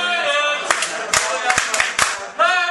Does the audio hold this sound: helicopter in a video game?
no